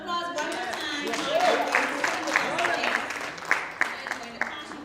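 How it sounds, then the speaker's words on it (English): Audience applause at a Women's Day panel event, a crowd of hands clapping steadily and swelling slightly before tapering, with voices talking underneath. "let's give them a round of applause one more time"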